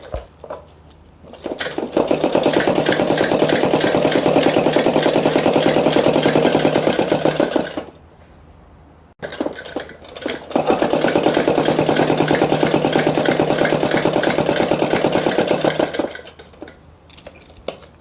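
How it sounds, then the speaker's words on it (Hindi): Sewing machine stitching seams on a salwar suit, two long runs of fast, even mechanical whirring and clatter separated by a brief pause, loud and close with no voices. "आइए अब इस पर हम यहीं पे सिलाई लगा देंगे।"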